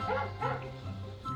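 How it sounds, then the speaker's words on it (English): A dog's barks are played during a guess-the-sound game. Three short yipping woofs come in quick succession over about a second and a half, moderately loud, with no talking. "That's a dog."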